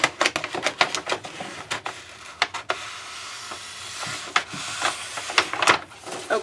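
Matte Dura-Lar film being cut off the roll, a close, dry series of crisp snips and crackling plastic rustles, irregular and fairly quiet, with no talking.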